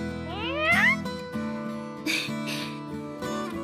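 A cat meows over soft background music, a pair of rising, wavering calls close to the microphone followed by fainter mewing later on.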